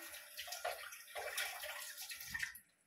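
Running water splashes at a kitchen sink during handwashing, a steady spattering stream with a few louder surges before it cuts off near the end.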